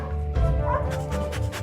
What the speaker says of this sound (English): That thing definitely charged at you, but now it's just jumping around, wagging its long tail, barking, and sticking its tongue out.